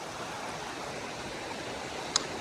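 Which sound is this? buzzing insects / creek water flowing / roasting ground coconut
creek water flowing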